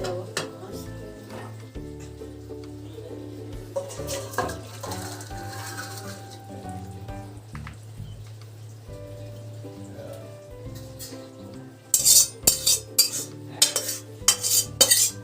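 Fish curry being poured out of a cooking pot in a home kitchen: clinks of metal utensils and splashing liquid over a steady hum, ending with a run of loud rapid scraping and clatter.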